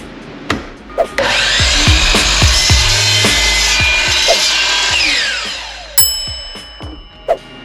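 A power saw cuts Trex composite decking boards, running loud and continuous for several seconds with sharp knocks of boards handled before and after, and a brief final burst near the end.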